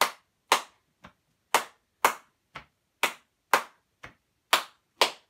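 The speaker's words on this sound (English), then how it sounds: "I'm just going to go with the chest clap clap for now" Sharp, percussive chest claps in a steady rhythm, about ten distinct slaps alternating strong and lighter hits, close and clear with no talking.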